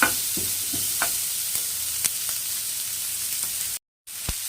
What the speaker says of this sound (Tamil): நல்லா அதை வதக்கி விடுங்க. கலர் நல்லா சேஞ்ச் ஆகணும்.